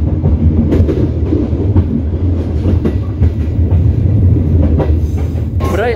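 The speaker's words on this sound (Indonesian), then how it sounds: "Kereta kita akan menanjak pelan-pelan menuju ke stasiun Nagrek yang merupakan stasiun tertinggi" A passenger train on the Serayu night service climbs slowly up a steep mountain grade toward Nagreg, the highest station on Java, with a loud, steady rumble of wheels and carriages and rhythmic clacking over the rails.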